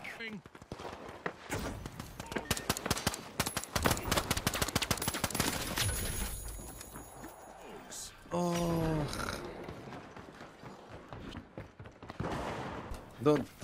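Rapid pistol gunfire from a shooter match comes in quick bursts of sharp shots, followed by scattered footsteps and game effects, with voices talking over parts of it.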